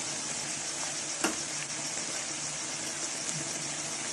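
Vegetables and spices, potato, cauliflower and peas with black pepper, coriander and red chilli, frying in a pan, a loud steady sizzle close up with one sharp scrape of a spoon partway through.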